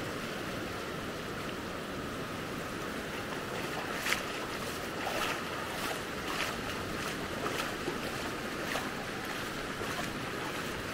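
Morning waves break and wash on the beach at Maspalomas, Gran Canaria, forming a continuous, fairly loud surf roar with faint periodic swells and a light wind rumble, no voices present.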